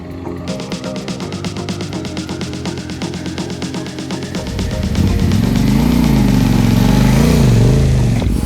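An adventure motorcycle engine, likened to a 300, runs steadily close by, rising into a louder, heavier drone partway through with a wavering pitch as it revs.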